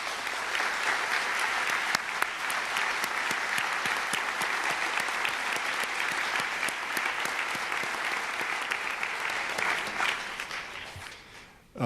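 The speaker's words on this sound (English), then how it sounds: "One more collective round of applause" A concert hall audience gives a long, sustained round of applause for the finalists of a piano competition before the award announcement, dense clapping holding steady for about twelve seconds before cutting off.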